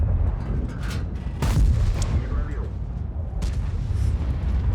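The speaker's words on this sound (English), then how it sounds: "Artie will now begin shooting me. I'm stunned." Artillery shells land on and around a tank in World of Tanks, heavy booming impacts and blasts under loud game noise, with someone talking over them.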